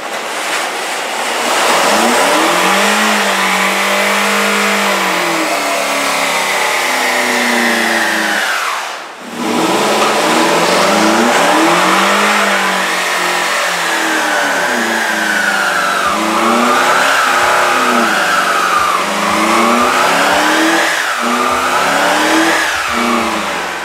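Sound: car engine revving

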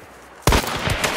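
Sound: gunshot headshot in the video game Hunt: Showdown

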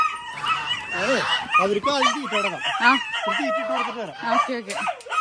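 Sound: chickens clucking

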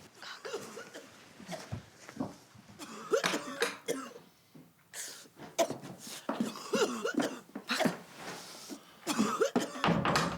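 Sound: coughing

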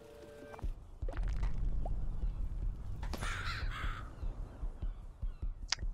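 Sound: seagulls cawing in the video game Donut County

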